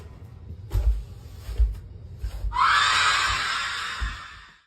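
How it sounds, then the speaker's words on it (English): A loud, harsh shriek from a ghostly figure peering down from a ceiling bursts in after a few low thumps and shuffling noises, holding as a sustained, rasping high scream for nearly two seconds before fading. "She peers down from the ceiling and unleashes a guttural shriek that no living human throat could ever produce."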